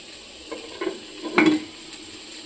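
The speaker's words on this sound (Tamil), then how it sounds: "ஆனியன் ஃப்ரை ஆகிறாங்க" Faint, soft sizzling of paneer and onions frying in a pan, with a few light stirring scrapes and clinks in the middle and no talking.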